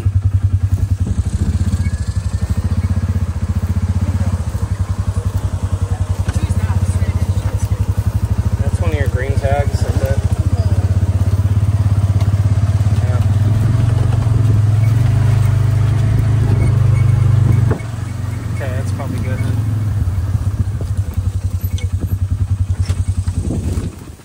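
A motor vehicle engine runs steadily outdoors with a low, constant drone and some clatter, staying loud and close throughout while people talk in the background.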